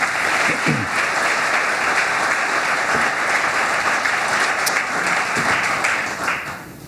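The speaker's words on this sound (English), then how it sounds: "let's just give him a round of applause" A school district's State of Our Schools audience gives a loud, sustained round of applause in memory of a community member, a full, dense wash of clapping that holds steady and tapers off only at the very end.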